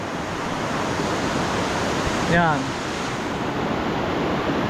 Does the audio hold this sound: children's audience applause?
no